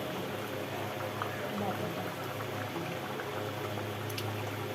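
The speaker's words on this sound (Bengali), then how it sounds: "ঝোলে তো ফুট উঠে গেছে আলুও মোটামুটি সেদ্ধ হয়ে গেছে" Fish curry broth with potatoes boiling in a pot, a low steady bubbling simmer that stays faint and even throughout, with a little background noise.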